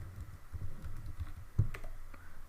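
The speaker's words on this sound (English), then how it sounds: "type in your own password here" Someone typing a password on a computer keyboard while setting up WordPress, a quiet, irregular patter of close key taps with one sharper click near the end.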